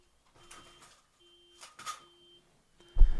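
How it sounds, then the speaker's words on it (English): An alarm outdoors sounds faintly in the distance as a steady, repeating tone, followed by a louder thump near the end. "Don't know if you guys can hear that, the alarm going off."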